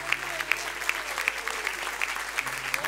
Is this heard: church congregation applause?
yes